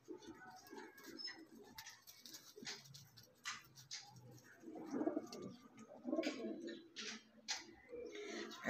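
Pigeons coo softly in a loft kept by a pigeon fancier, low murmuring calls repeating throughout alongside faint bird chatter and background noise.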